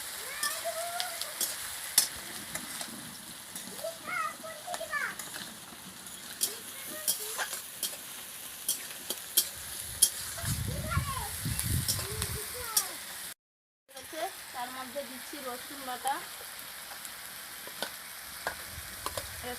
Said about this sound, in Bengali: পেঁয়াজটাকে ভালো করে মাখতে হবে